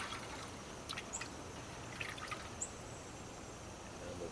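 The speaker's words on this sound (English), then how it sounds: "I'm gonna water them in" Water is poured onto eight newly planted heads of romaine lettuce in a fall garden, a soft, steady trickle and splash with a few faint bird chirps in the background.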